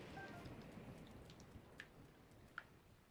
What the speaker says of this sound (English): Good thing it's raining.